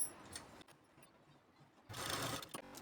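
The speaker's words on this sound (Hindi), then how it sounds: "तो यहाँ पर मैंने टॉप सिलाई लगा ली है।" Sewing machine running top stitching on a blouse, a quiet whirring stretch at first that swells into a louder, steadier mechanical hum near the end.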